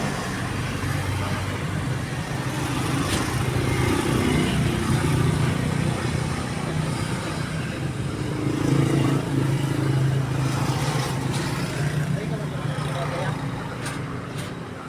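Mixed street traffic of cars, motorcycles and larger vehicles rolls past a roadside vendor's spot in a steady, continuous rumble, swelling as vehicles near and fading away, with voices talking nearby.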